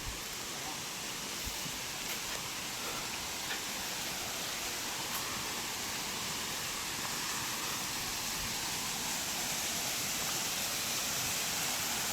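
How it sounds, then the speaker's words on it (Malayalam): Kollamkolli waterfall, running low, gives a steady broad hiss of falling water, even and unbroken throughout. "ഇതാണ് കൊല്ലംകൊല്ലി വെള്ളച്ചാട്ടം"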